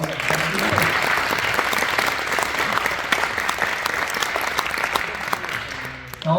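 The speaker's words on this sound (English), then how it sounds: "if we give Mayor Chadwick a round of applause" Audience applause for the mayor at a State of the City address in Star, Idaho, a steady dense crowd clapping that holds throughout and fades slightly at the end.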